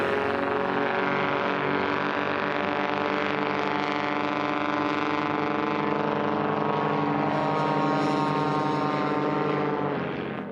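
A light aircraft's Lycoming propeller engine roars at full power near 3,000 RPM during a STOL drag race, a loud, steady drone with strong harmonic buzz that holds constant for several seconds before easing slightly at the end.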